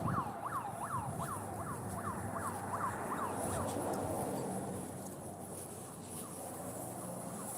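A siren wails from a shop nearby, rapid rising-and-falling yelps repeating for a few seconds before fading into a softer wash of street noise.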